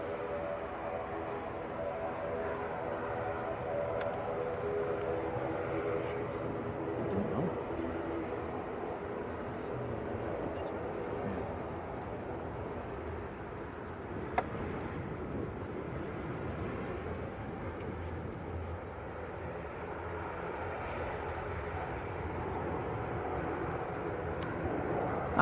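A ten-year-old Airbus A380 on final approach to Manchester Airport after a long flight from Dubai, a steady broad jet roar with a low rumble that holds evenly throughout, moderately distant, with faint talk beneath.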